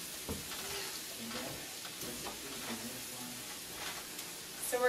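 Mushrooms and minced garlic frying together in a pan, a soft steady sizzle with occasional stirring scrapes, close and fairly quiet.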